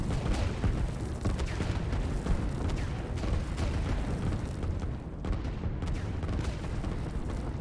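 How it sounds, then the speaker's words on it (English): Units hidden in a forest fire in the strategy game Line War, producing a continuous rumbling barrage of overlapping booms and shots that stays steady and dense throughout. "Laki's got some units hidden in the forest here, and they're firing in"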